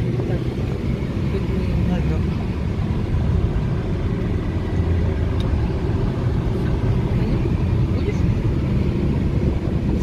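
Car interior on the drive to Mall of Antalya, a steady low road rumble and engine drone filling the cabin throughout, with no notable changes.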